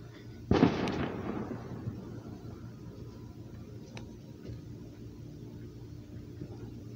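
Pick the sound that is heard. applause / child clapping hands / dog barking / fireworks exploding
fireworks exploding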